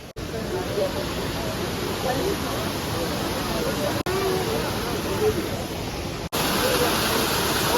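A steady, roaring rush of falling water fills the air continuously, broad and unbroken, with only two brief cuts in the sound.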